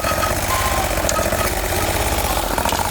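A Bolens 1600H garden tractor with a Briggs 20HP V-twin engine running steadily, a loud, close, throbbing idle with a rapid rhythmic knock and mechanical rattle, no talking.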